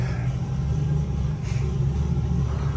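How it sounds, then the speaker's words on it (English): A truck engine with a large 85mm turbo LS setup rumbles low and steady in the background, a continuous mid-level drone with no talk over it. "You can hear his truck in the background"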